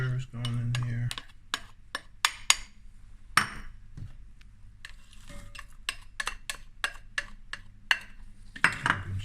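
Bulgogi marinade of sugar, garlic, ginger and Asian pear being mixed in a bowl, with a string of sharp clinks and taps of utensil against the bowl in an irregular rhythm, close and clear.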